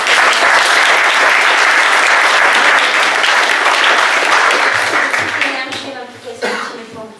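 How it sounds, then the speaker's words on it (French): Loud, full applause from the crowd at a kiteboarding club presentation, steady for several seconds and then thinning out, with a cough and a voice breaking through as it fades. "je pense qu'on peut applaudir bien fort Gaëlle."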